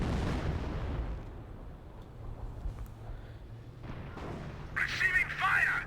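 Battlefield din in the World War II strategy game Company of Heroes, with dull artillery rumbles and scattered bursts of gunfire under a steady low roar, ending in a brighter crackling flurry.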